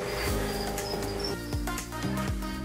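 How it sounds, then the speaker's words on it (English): Farmed crickets chirping inside a breeding tub, a dense pulsing chorus of rapid repeated chirps, close and steady throughout. "these crickets will be in this box for the rest of their lives"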